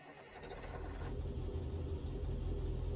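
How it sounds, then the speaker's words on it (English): Mack truck engine running in American Truck Simulator, a low, steady diesel rumble that grows slightly louder over a few seconds, heard alone with no voices. "You listen to the engine, it's darn fine."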